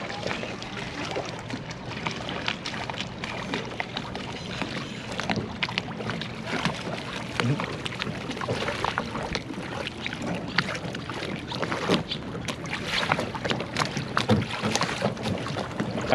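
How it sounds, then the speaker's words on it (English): A dinghy rowed by hand in the rain on Nova Scotia's Bras d'Or Lakes gives a continuous wash of rain and water noise with wind buffeting the microphone, steady and close throughout. "we're rowing around our dinghy like our great-grandparents would have."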